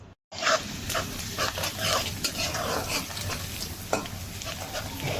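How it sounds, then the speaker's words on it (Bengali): Thinly sliced onions frying in plenty of oil until browned for mustard hilsa, a soft steady sizzle with intermittent stirring scrapes, fairly quiet and close. "হ্যাঁ, পেঁয়াজগুলোকে আমি বাদামি কালার করছি।"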